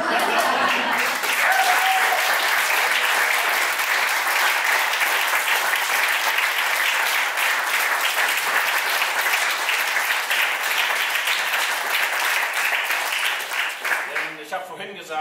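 An audience claps for a dancer at a tango evening by the sea in Rostock, giving warm, sustained applause that runs evenly for about thirteen seconds before thinning out into scattered claps near the end.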